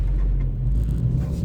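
Ford Focus accelerating, a steady low engine rumble and road drone heard from inside the car, loud and continuous with no talking.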